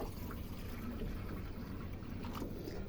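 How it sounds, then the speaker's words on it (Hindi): Fresh water poured into a pet rabbit's water bowl, a steady close splashing fill lasting a few seconds, with no talking over it. "नया पानी इसके अंदर डालें।"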